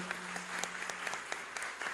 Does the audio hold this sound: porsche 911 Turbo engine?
no